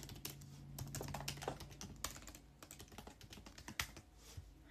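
Fingers tap out a title on a computer keyboard in a Python snippet organizer app, a quiet, close, irregular stream of key clicks with no talking.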